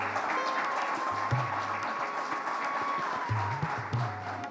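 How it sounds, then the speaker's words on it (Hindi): Applause from an audience welcoming Ajay Devgan on stage at an event honouring martyrs' families, a steady wash of clapping with low background hum and occasional louder bumps. "जोरदार तालियों से स्वागत"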